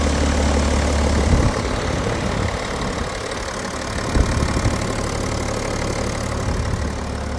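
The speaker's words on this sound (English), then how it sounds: "Very nice, smooth engine." A BMW 530d diesel engine idling steadily nearby, a low continuous rumble with a slight rattle and a couple of small bumps, no voices.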